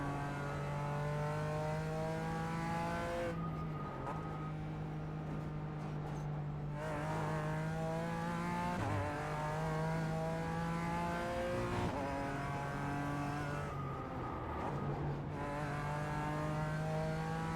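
A BMW M4 GT4 Evo race car lapping the Nürburgring, loud in-car engine roar climbing through the revs with repeated sharp upshifts and brief drops as it brakes and accelerates again.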